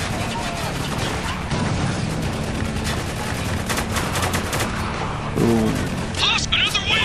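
Rapid bursts of automatic gunfire and single shots crackle through a Spec Ops: The Line firefight, loud and continuous, with shouted game dialogue mixed in over the shooting and a heavier impact near the end.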